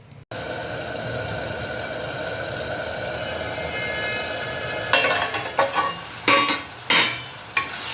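A spoon stirs a brinjal and broad bean curry simmering in a pan. A steady low sizzle runs throughout, then several close scraping strokes come in the last few seconds.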